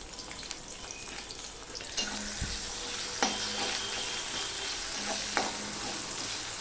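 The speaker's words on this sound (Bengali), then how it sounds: "আর এখানে দেখো আমি কিছুটা পেঁয়াজ আমি ভেজে নেব।" Onions sizzle in hot oil in a pan for chicken curry, a steady close hiss broken by a few sharp stirring clinks and scrapes, with no voices.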